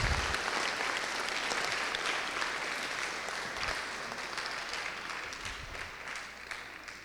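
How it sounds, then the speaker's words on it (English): An audience at a conference gives sustained applause, a loud wash of many clapping hands that slowly fades over several seconds, with no speech over it. "Give applause to COF."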